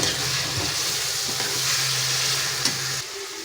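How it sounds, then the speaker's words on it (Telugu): Broad bean and tomato curry is stirred in a pan, a loud continuous sizzle with soft spoon scrapes throughout and no talk. "ఒకసారి మొత్తం కలుపుకుందామండి."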